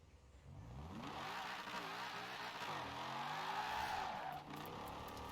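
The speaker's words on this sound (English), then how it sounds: "I'm sorry in advance for the sound of this engine. It does sound awful, but it is the most powerful engine you can get in this car." A car engine in the racing game Forza Horizon 4 revs hard on drag slicks while drifting, its rising and falling pitch sweeping through gear changes under tire squeal, loud and continuous.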